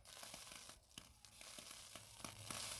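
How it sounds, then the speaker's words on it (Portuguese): Water boiling inside a polymerization machine running at maximum temperature, a faint crackling sizzle with small irregular pops, quiet and continuous. "A água está fervendo e a temperatura lógica, vai aumentando ali."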